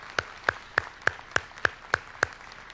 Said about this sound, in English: Let's give these ladies a nice round of applause.